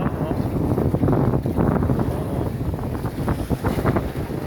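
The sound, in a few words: strong sea waves around a small boat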